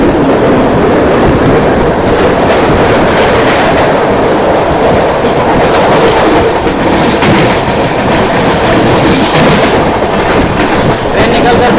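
An Indian railway train on the Mumbai to Delhi route runs steadily and loudly from start to finish, a dense continuous rumble with rhythmic clickety-clack from the wheels, heard close from on board.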